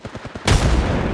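Burst of automatic gunfire in the mobile battle royale shooter Apex Legends Mobile during a ranked match, a loud sustained volley of shots kicking in abruptly after a quieter rhythmic stretch.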